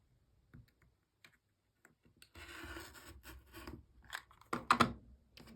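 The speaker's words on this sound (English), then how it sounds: "Trimmed a little piece of tape off." Scissors trim a small piece of tape during a quilting task, with scattered soft clicks and snips that turn into a rasping, rustling stretch, then a few sharper cuts near the end, close and quiet, with no talk.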